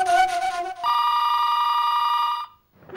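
An office telephone rings with a steady electronic trill, a long continuous ring after a brief lead-in, loud and close, then cutting off into a short silence.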